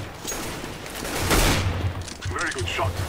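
A first-person shooter video game lets off a short, loud burst of gunfire midway, with fainter game noise around it.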